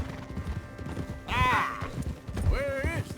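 Horse hooves clip-clop in Red Dead Redemption 2 under talking voices, a steady rhythmic plod with a neigh or whinny breaking through twice.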